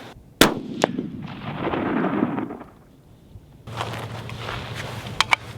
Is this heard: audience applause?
no